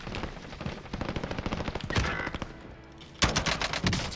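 Rapid automatic gunfire in the video game Call of Duty Warzone, dense bursts of shots rattling continuously with a heavier loud volley near the end.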